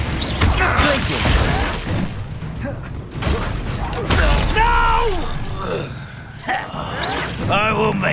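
Glacius freezing spell cast in Hogwarts Legacy: continuous combat noise with crackling, shattering bursts and magical whooshes, dense and loud, with a voice shouting over it.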